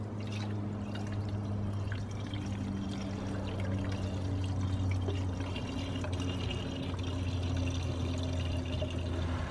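Water pours steadily into the cooling system of a BMW car for several seconds, a continuous splashing rush over a low engine-bay hum, with no talking.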